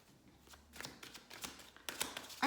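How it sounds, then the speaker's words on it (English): Tarot cards are shuffled by hand in quick, soft papery riffles and taps, close and fairly quiet, with no talking. "I'm just going to shuffle cards and see what comes out."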